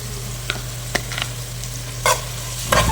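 Onions frying in hot oil with a steady close sizzle, broken by a few scraping stirs of a spoon against the pan, no talking over it.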